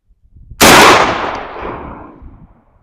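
A single loud 12 gauge slug shotgun blast outdoors, a sharp crack followed by a long rolling echo that fades over about two seconds.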